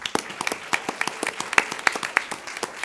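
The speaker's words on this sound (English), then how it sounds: "so let's give him a round of applause" A small group at a community college board meeting claps for the college president, a few seconds of sparse, distinct hand claps close by, with no voices over them.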